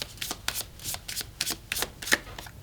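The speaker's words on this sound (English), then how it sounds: "we'll use these lovely cards, and we'll just shuffle until it feels right" A deck of tarot cards is shuffled by hand, a steady run of soft riffling snaps and slides, close and quiet, with no voices.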